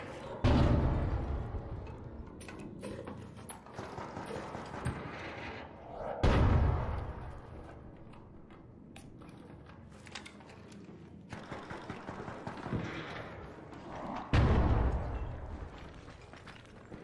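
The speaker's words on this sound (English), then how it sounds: "There's a lot of gunfire." Bursts of rapid gunfire and heavy booms repeat at intervals in the video game Arc Raiders, with a constant low rumble of battle between them, moderately loud.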